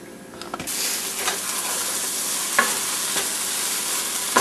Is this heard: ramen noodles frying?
yes